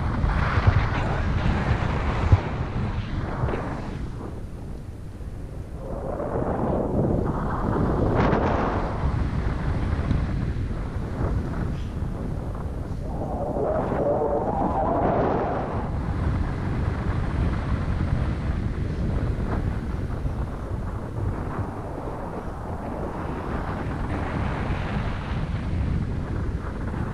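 Strong wind roars and buffets the microphone during a landing, heard as steady, loud broadband rushing with gusty surges throughout, no speech.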